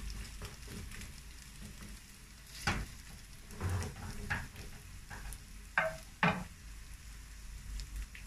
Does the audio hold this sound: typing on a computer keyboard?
no